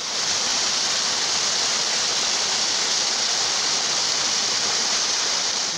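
A flooded mountain stream rushes through a gorge, a loud, continuous roar of churning water with no breaks.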